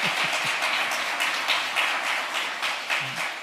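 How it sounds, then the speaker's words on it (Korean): A church congregation applauds after a sermon announcement, a sustained round of many hands clapping with an uneven patter lasting the whole time, heard alone without speech. "박수 한번 쳐드립시다"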